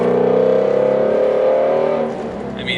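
A Ford Mustang Shelby GT350R engine revs loud and close, a rich droning growl holding steady before easing off and fading slightly at the end.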